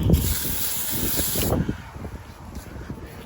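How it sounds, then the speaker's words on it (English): Pressure washer spot spraying sections of a surface, a loud steady hiss of spray close by that softens partway through. "We'll just spot spray some of the sections."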